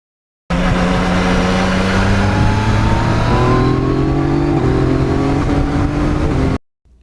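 A Yamaha MT-09 motorcycle engine roars loudly through its muffler, revving and accelerating up through the gears in one sustained run, then cutting off abruptly.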